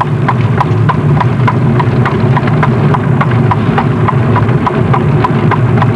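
A horse pulling a carriage clip-clops along at an unhurried pace, hooves striking in a steady, even rhythm over a constant low rumble of wheels and road.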